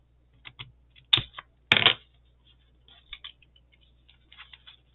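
Paper tags are cut with scissors during a boho flip-flop book craft, heard as a few sharp, close snips and clicks spread over a quiet room, with no talking.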